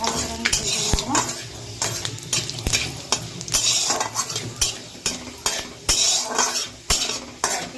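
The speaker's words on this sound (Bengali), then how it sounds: "ভালো করে আমি ভেজে নেব" Whole spices (panch phoron) frying in a small amount of oil in a pan for pumpkin stem dal, a steady sizzle with repeated sharp scrapes and clinks of a spoon stirring against the metal pan, close and fairly loud.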